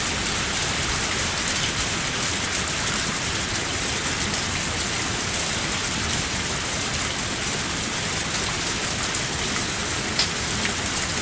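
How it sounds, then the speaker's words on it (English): Steady, dense rain from a Higurashi visual novel pours without a break, even and fairly loud, with no voices or other sounds over it. "The sudden rain has us in a bit of trouble."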